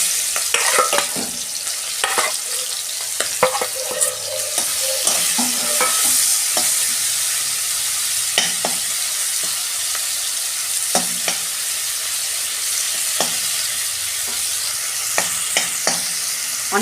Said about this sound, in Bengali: তেল গরম হয়ে গেছে, মাছটা আমি ভেজে নিচ্ছি।